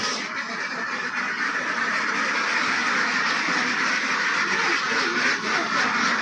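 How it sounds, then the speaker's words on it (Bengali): A flock of ducks at a small egg-laying farm makes a dense, continuous chorus of quacking and chatter, close and loud, with no talk. "এত সুন্দর হাঁস মনিকা এত সুন্দর হাঁস বলার মতন না"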